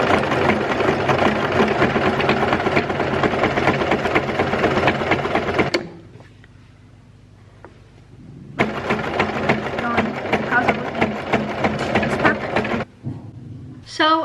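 A sewing machine stitches a fabric book sleeve in close, steady whirring runs, broken by a quiet pause of a few seconds and a brief stop near the end.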